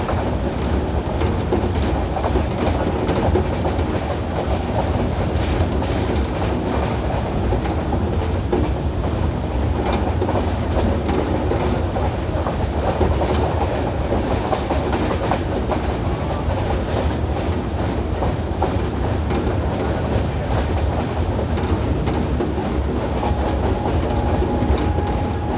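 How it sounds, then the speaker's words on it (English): Steady rhythmic clickety-clack of Duronto Express wheels over rail joints, heard from a sleeper-class upper berth on a fast overnight run, with a continuous low rumble and no talking. "Enjoy the track sounds from the upper berth."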